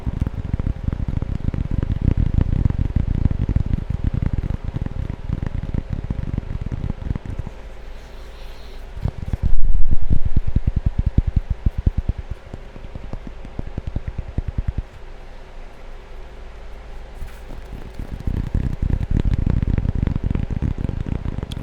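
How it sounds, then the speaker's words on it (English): Raindrops patter steadily on an overhang outdoors, a dense continuous pattering that eases in the middle and swells again toward the end, with no talk over it. "It's raining outside, and you can hear all of the little raindrops hitting the overhang."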